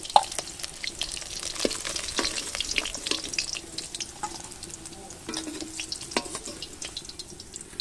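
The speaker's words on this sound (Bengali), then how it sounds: "বাকি মাছগুলো এভাবে আমি ভেজে নেব" The remaining fish fry in a pan of hot oil on a village clay stove, giving a soft, close sizzle dotted with sharp spitting crackles and pops throughout.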